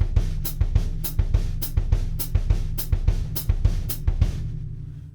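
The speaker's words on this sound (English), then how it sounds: "let's take a samba foot ostinato, which is in 4/4 time, and it sounds like this." A drum kit plays a samba foot ostinato in 4/4, steady low bass drum thumps alternating with crisp hi-hat or cymbal chicks in an even, rapid repeating pattern, played alone.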